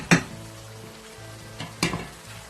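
Beef browns in a pot over a low flame for Pakistani beef stew, a quiet steady sizzle broken by two sharp scraping stirs, one at the start and another near the end.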